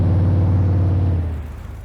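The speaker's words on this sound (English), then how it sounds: "the car does get up to speed relatively nice" A 1969 Ford Mustang with a small 302 engine in Farming Simulator 22 drones in a loud, steady low rumble while driving, then fades and thins out toward the end.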